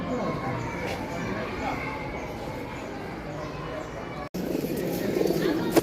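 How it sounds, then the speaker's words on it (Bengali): Pigeons coo at the Shah Jalal shrine in Sylhet, soft and steady beneath continuous talking and the murmur of a busy outdoor crowd. "শাহজালাল রহমতুল্লাহ আলী এর মাজারের বিশেষ ঐতিহ্য কবুতর"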